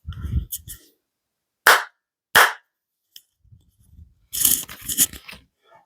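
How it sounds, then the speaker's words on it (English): Two sharp hand claps, about a second apart, made to sync two cameras, loud and close, with brief murmured speech before and after. "That clap was to sync the 2 cameras"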